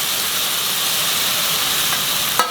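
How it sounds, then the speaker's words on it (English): Onions added to a hot pan for a flat bean vegetable dish give a steady, close, loud sizzle and hiss, with a brief crackle near the end. "Now I can put the onions."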